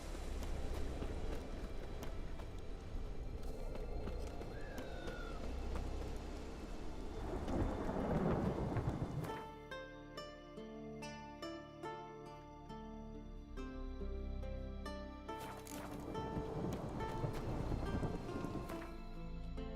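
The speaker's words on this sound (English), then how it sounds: "It's raining. Put on your tunic." Rain falls steadily with a rumble of thunder in The Witcher 3, a broad wash of noise joined partway through by game music and effects.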